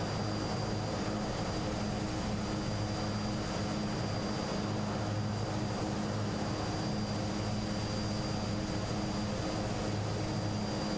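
A Twin Otter propeller aircraft in Microsoft Flight Simulator drones steadily at a constant, dense engine roar with a faint high whine, continuous and unchanging throughout with no talking.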